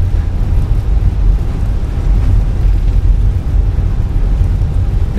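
Airliner rolling out after landing in a flight simulator, a steady low rumble of engines and runway noise with no clear change, unbroken throughout.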